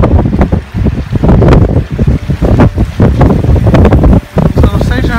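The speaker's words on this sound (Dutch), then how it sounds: "Het is nog steeds harde wind." Strong wind buffeting the microphone near the coast at Kotor, Montenegro, with loud, gusty, uneven low rumbling blasts that continue throughout.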